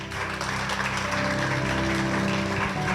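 A church congregation applauds in a dense, steady clatter of many hands that fills the room for the whole moment, with a faint tone sustained behind it.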